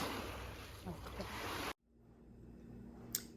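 Water sloshing and rushing close by for the first part, loud and broadband, then an abrupt cut to a quiet outdoor hush with faint wind and a brief sharp splash near the end.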